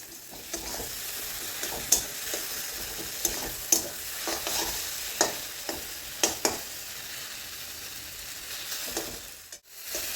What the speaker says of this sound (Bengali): এবার ডিমের ভুজিয়া ভেজে নিতে হবে